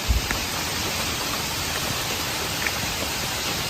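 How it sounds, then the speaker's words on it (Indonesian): Heavy rain falls on a campervan in an even, steady hiss, with a few sharper drops hitting the roof and no one speaking. "Oh masih hujan di luar sana."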